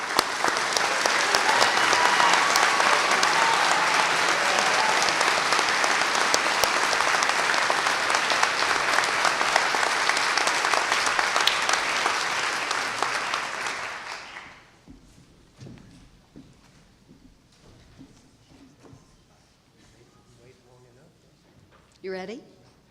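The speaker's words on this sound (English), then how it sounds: "let's applaud all of these awardees." Audience applause for awardees at a Marlboro College commencement ceremony in 2015: dense, loud, sustained clapping that fills the first fourteen seconds, then fades out to a quiet room with faint voices and rustling.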